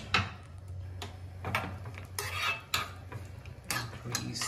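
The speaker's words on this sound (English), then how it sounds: "Make sure that you fry the nuts." Nuts, with raisins added, fried and stirred in a pan for a quick firni, giving repeated metallic scrapes and clinks of a utensil against the pan over a low steady hum, close and fairly quiet.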